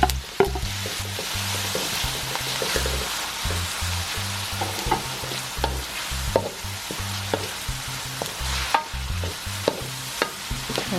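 Beef and white onion fry in a pan for pancit, with a steady sizzle broken by repeated sharp scrapes and clinks of a utensil stirring against the pan, close and fairly loud, with no talking.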